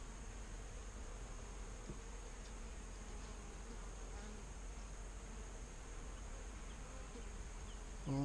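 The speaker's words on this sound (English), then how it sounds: "there's not very many bees here" Honeybees buzz in a sparsely populated hive from a split package, a faint, steady, even drone that continues unbroken throughout, with no talking.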